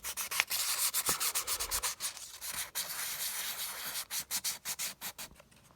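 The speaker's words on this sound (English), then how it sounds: "You can use a sanding block too if you don't have any sandpaper." Sandpaper rubs over a homemade Jason mask in quick repeated strokes, a close, loud rasping scratch pulsing in an uneven rhythm with brief pauses, no voices over it.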